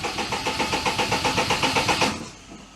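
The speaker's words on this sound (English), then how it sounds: "let's just give her a crank on that" A Daihatsu Charade engine cranks over on the starter with a steady rhythmic churn, about a dozen even pulses, loud and close, that stop abruptly without catching.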